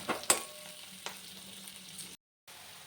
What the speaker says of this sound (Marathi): आता हा कांदा छानपैकी भाजून घ्यायचा लाल सर हा कांदा परतत आहे